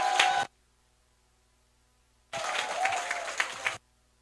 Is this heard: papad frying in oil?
no